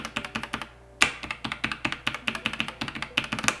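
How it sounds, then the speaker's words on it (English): Keys clatter on an MX Mechanical keyboard after a keycap is fitted onto it: quick, crisp, close clicks in an uneven typing rhythm, with one brief pause near the start. "And then if I just pop this on my MX Mechanical"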